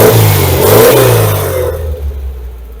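A Volkswagen Thing engine revs loudly, its pitch rising and falling, then settles to a lower idle rumble as it fades slightly toward the end.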